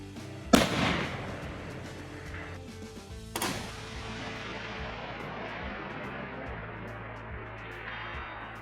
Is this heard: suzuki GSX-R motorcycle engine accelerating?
no